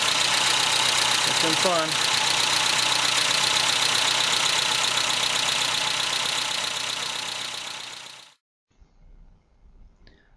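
A Mazda B2200 pickup engine idles loudly and close after a timing belt change, a steady dense running note that fades and cuts off near the end, with a brief voice over it.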